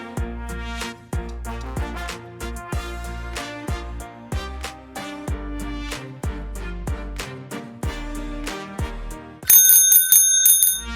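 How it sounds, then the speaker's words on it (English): A tricycle bell mounted on the handlebar rings in a run of bright metallic dings, about a dozen evenly spaced strikes with ringing decay, ending in a faster cluster of higher, louder rings; close and clear with no voices. "Lastly, fix the bell on the handlebar and tighten the screw."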